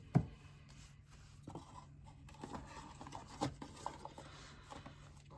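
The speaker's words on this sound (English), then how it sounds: "So let's go through the cards." Tarot cards from the Tarot of Magical Consequences deck being flipped through, soft scattered card slaps, slides and light scrapes over a quiet low hum, with no talk.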